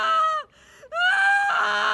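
A girl screams desperately in a narrated story, two long high wailing cries broken by a brief gasp, loud and close with no other sound.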